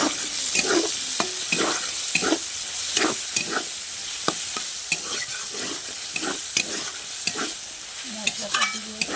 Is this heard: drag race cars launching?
no